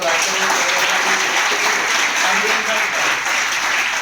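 A college hall audience at an anti-ragging guidance session claps loudly and steadily, dense applause filling the room throughout, with voices mixed in.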